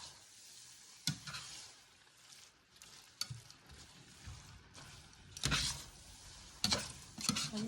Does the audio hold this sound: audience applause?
no